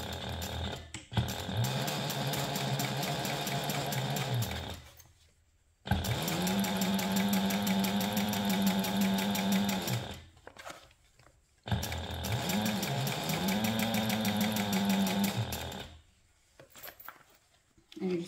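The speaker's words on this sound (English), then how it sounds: "now we're just going to top stitch or baste all the way around the raw edges of the gussets" A sewing machine runs in three bursts of steady, rapid stitching as it top-stitches the raw edges of fabric bag gussets, each run a few seconds long with brief quiet gaps between.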